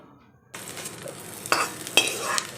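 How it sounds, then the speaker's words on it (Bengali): Eggplant and drumstick pieces fry in oil in a wok, a steady close sizzle starting after a brief quiet moment, broken by three or four sharp scrapes and clicks of a spatula stirring them, with no talking. "এবার আমি এই কড়াইতেই বেগুন আর সজনে ডাটা এগুলোকে ভেজে নিচ্ছি ভালো করে"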